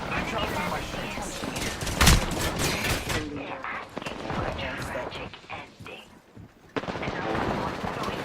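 Enemies fire on the player in a shooter video game: loud, rapid automatic bursts and single shots rattle on throughout, with a sharp crack near the two-second mark and a brief lull before the firing swells again.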